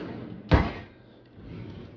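A kitchen cabinet door or drawer is shut with a single sharp knock in an older kitchen, followed by soft handling noise, no talking.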